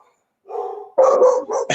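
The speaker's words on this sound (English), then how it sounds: "My dog went crazy." A dog barking nearby, loud and close, a short run of two or three sharp barks in quick succession with no voices over it.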